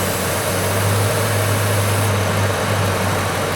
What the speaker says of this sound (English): If you hear it revving up though like that,